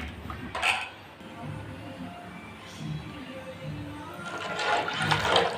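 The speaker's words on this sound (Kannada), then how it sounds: "ನಮಗೆ ಎಷ್ಟು ಬೇಕಷ್ಟು ವಾಟರ್ ಹಾಕಿ" Water poured into a pot of sambar in a home kitchen, a splashing gush at the start and again near the end, with quieter clinks between.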